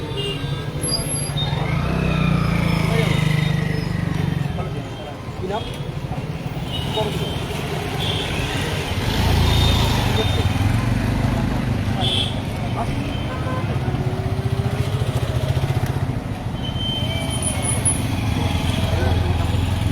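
Motorcycles and other traffic at a police roadside checkpoint, engines idling and passing close by in a steady roadside rumble with occasional horn toots, while a voice talks over the noise.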